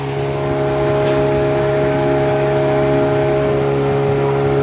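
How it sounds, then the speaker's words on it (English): Motorboat on Ooty Lake running at a steady, continuous engine drone with strong low tonal hum, close and loud throughout with no talk. "He is driving the motorboat."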